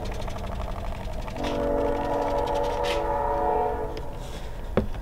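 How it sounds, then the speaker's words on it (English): A train passes at a distance, a rumbling rail noise under a long, sustained horn blast that swells and fades, ending with a sharp knock nearby. "Another train."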